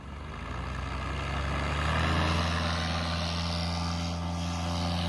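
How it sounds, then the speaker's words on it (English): A paramotor engine spins up while a pilot launches a Dudek paraglider wing, its propeller drone rising steadily in pitch and loudness over the first couple of seconds, then holding a strong, close, continuous roar. "It sounded like it kind of took a little while for his motor to spin up."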